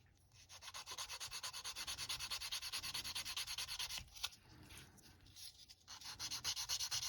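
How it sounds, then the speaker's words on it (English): UMP sanders work over a plastic model tank hull of a T-55A, rubbing in quick, even back-and-forth strokes, close and fairly quiet, with a brief pause midway before the rhythmic rasping resumes. "so again using UMP sanders, and we'll just get rid of that."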